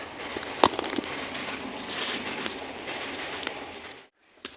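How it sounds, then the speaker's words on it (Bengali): A train rumbles past with a steady broad roar and a few sharp clicks, then the noise cuts off abruptly near the end. "দাঁড়াও ট্রেনটা চলে যাক"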